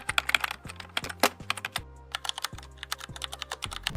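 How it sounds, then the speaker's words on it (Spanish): Keyboard typing sound effect from CapCut: a quick run of crisp key clicks at close range, with a steady low background hum under the taps and no voices. "para efectos de teclado"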